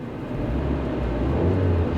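An old used car's engine, out of gas and long sitting, revs with a steady low rumble that swells slightly near the end, close and loud with no talking.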